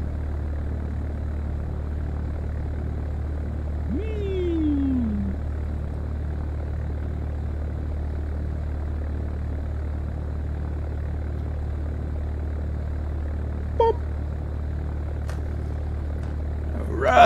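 A light aircraft engine drones steadily at idle while the plane taxis and turns, a low continuous hum under a brief voice and a few short clicks near the end.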